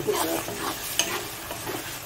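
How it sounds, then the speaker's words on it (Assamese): Steady crackling sizzle of food frying in a pan, with occasional scrapes and clinks from stirring, close and fairly loud. "আৰু এইখিনি একদম শুকান কৰি ভাজিম।"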